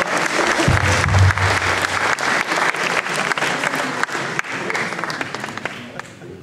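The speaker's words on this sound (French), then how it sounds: "On peut les applaudir." An audience at a chess tournament prize-giving bursts into loud, sustained applause for the round winners, a thick wash of clapping that tapers slightly near the end.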